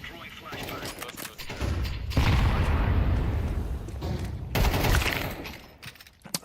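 Rapid gunfire and bursts erupt in a Counter-Strike 2 match, swelling into dense volleys in the middle and easing off toward the end, while players talk over the shooting.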